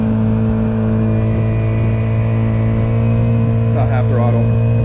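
A Honda 50cc outboard motor pushes a small boat as the throttle opens, a loud steady drone heard close throughout, with a brief voice near the end.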